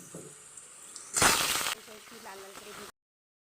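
Potatoes dropped into hot oil where onions have been frying give a brief, loud burst of sizzling, then settle into a softer steady frying hiss with a few light clinks from the pan.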